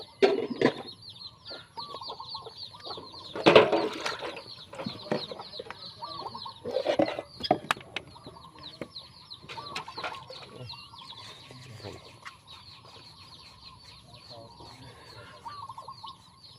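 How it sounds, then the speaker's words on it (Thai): Several chickens cluck and chatter nearby, with a sudden burst of louder squawking and wing flapping, then softer clucking continues. "ไก่น้อยที่มีไก่ตอกช่วยเลี้ยงนะครับ"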